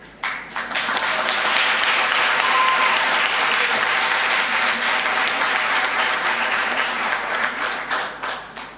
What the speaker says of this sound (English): We need your claps, please.